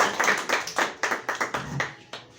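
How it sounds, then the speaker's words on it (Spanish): Church congregation claps in a few sharp, separate rhythmic hand claps, about a dozen distinct strikes with brief gaps, close and fairly loud in a reverberant room, fading out at the end. "Démosle un aplauso en esta mañana."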